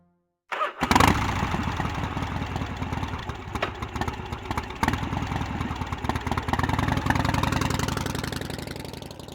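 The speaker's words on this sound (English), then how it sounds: "Gabriel rides a motorcycle." A motorcycle engine in the 1993 adventure game Gabriel Knight: Sins of the Fathers starts after a moment of silence, then rumbles and idles steadily up close with small revs, with no talking.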